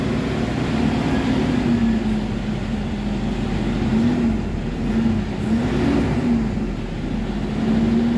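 A Toyota Hilux engine suffering low power, held at about 1,500 rpm, gives a steady, loud, close drone with gentle rises and dips in pitch and no voices over it.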